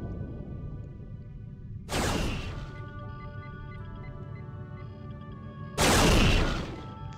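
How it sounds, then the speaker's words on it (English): A ship fires torpedoes at a starbase in a space video game: two loud bursts of weapon fire about four seconds apart, set against a steady low electronic hum with sustained tonal drones. "Fire a few torpedoes just to wake them up."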